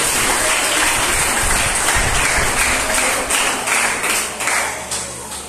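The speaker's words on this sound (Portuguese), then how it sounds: "as palmas, bem alegre para o Senhor" A church congregation breaks into lively, sustained applause, a thick continuous roar of many clapping hands filling the room for several seconds, loud and close, with no speech on top.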